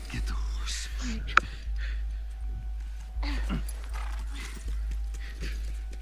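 A horse in the video game The Last of Us Remastered, with soft hoof clopping and snorts under a steady low hum, while a person talks over it.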